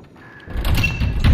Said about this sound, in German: So, jetzt diese Tür. Mal schauen, ob die aufgeht.